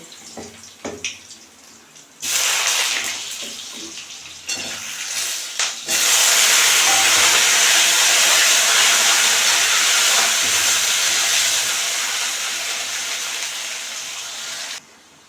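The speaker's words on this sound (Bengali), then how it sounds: "এখন আমি আলুগুলো দিয়ে দিচ্ছি" Potato pieces drop into hot oil for a vegetarian soybean curry, setting off a loud, rushing hiss that surges in bursts, then holds steady and slowly fades, close up.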